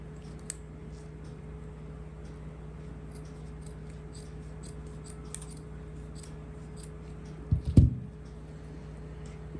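Scissors cutting cloth for a baby frock: a quiet room with faint scattered snips and ticks, then a short cluster of louder close cutting and handling sounds near the end.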